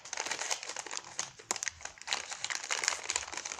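Plastic packaging around a citrus lemonade bath bomb is unwrapped up close, giving a run of quiet crinkling and rustling with small crackles, and no talking.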